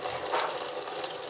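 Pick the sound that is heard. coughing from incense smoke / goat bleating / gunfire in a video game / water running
water running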